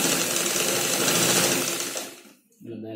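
Singer Fashion Maker sewing machine stitching fabric with a runner foot, a fast steady mechanical whirr running for about two seconds before stopping abruptly, followed by a brief quiet gap and a voice.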